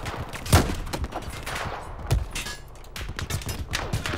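A mounted gun fires in Battlefield 4 campaign combat at a dam, sounding as heavy bursts of automatic fire with strong thumping shots and scattered rattling rounds at mid distance.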